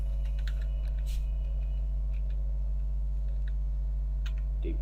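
Typing on a computer keyboard, faint scattered key clicks spread irregularly over a constant low electrical hum.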